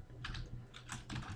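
Quick bursts of keystrokes on a computer keyboard, a few short clusters of clicks close to the microphone, faint and with no talking.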